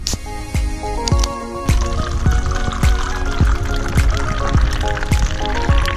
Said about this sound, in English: I'm gonna pour a drink using the GoPro.